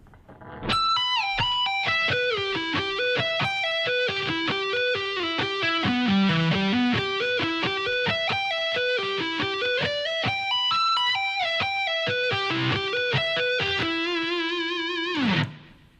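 A distorted electric guitar plays a steady arpeggio of single notes rising and falling, unhurried and continuous, ending on a sustained note.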